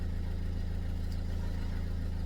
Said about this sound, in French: Alors que le véhicule tourne au ralenti bien.